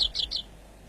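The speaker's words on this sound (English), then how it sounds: "Black redstart." Three short, high chirps from a black redstart in quick succession, fairly close, followed by quiet.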